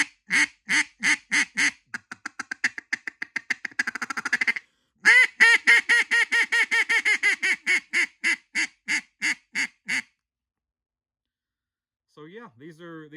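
A Signature Series duck call being blown, loud and close: rapid strings of raspy quacks, first a fast run, then a drawn-out descending series of evenly spaced quacks, pausing before a few final soft notes.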